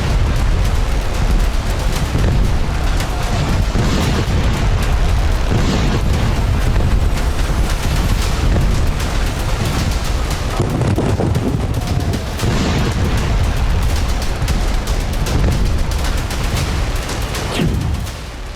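Explosions in Israel during an Iranian missile attack, a loud continuous rumble of blasts and booms layered over one another for the whole stretch, with no talking.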